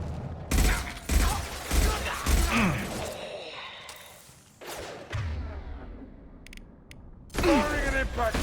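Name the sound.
impact shot gunfire in Mass Effect 2 video game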